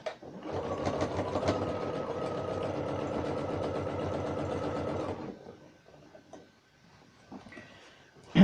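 A sewing machine runs steadily for about five seconds, stitching the lining into a Christmas stocking, then stops, leaving quiet handling noises and a sudden loud knock at the end.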